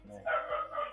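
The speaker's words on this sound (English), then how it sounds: "That's my dog barking." A dog barks a couple of times nearby, short sharp yips that briefly overlap a person saying a word.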